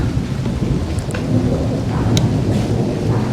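Steady rain patters loudly with a deep, low rumble of thunder underneath, heard close by; a few faint clicks break through.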